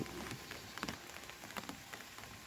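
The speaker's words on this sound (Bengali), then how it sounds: "টানা একাধিক বৃষ্টি হচ্ছে টিপে টিপে বৃষ্টি" Light, steady drizzle falls on a muddy, waterlogged dirt road in a village, making a continuous soft patter with scattered, sharper drop taps. No voices are heard.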